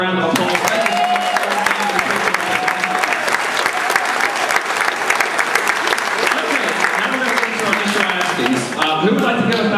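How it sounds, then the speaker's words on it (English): An audience at a school charity auction gives a long, lively round of applause, dense and steady for nearly ten seconds, with voices and some cheering mixed into the clapping. "Let's give the gentleman another round of applause."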